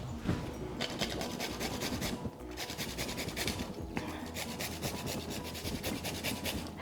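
Fresh turmeric root grated straight into a dish for vegetable samosas: a steady, close rasping scrape that runs in repeated strokes with brief pauses, and no talking.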